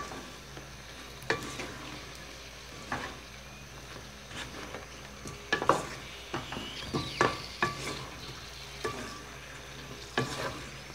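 Sweet potato pieces fry in a pan for strawberry kamote que, the close, steady sizzle broken by repeated clacks and scrapes as a utensil stirs them every second or so, with no talking.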